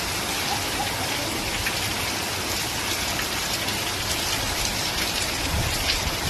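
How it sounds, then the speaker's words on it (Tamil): Steady rain pours down outdoors in a hilly area, a dense, loud, continuous hiss of drops striking surfaces nearby, with no talking and no breaks throughout. "இங்கே வரைக்குமே மழை தூருது"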